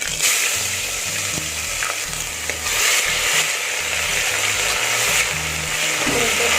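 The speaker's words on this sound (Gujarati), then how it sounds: "એક મિનિટ માટે આ રીતના સાતરી લેશે એને આદુ લસણની પેસ્ટ એકદમ સરસ સતરાઈ ગઈ છે" Ginger, garlic and chili paste sautéing with whole spices in hot oil for a Gujarati khichdi, giving a loud, steady close sizzle with stirring scrapes throughout.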